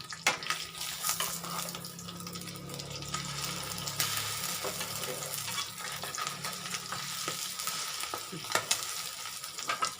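An egg mixed with red ant eggs fries in a pan, sizzling and crackling steadily and loudly up close, with occasional scraping stir sounds and no talk.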